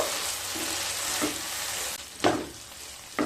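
Fried coconut being roasted with spices in a pan for a vegetarian ghugni, a steady close sizzle with a few louder stirring scrapes near the end.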